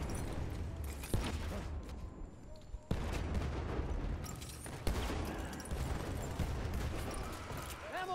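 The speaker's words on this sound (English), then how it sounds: "This nade spam is real right now" Gunfire and grenade blasts in Battlefield 1 multiplayer, a dense run of sharp bursts and booms at moderate level, with a short lull midway.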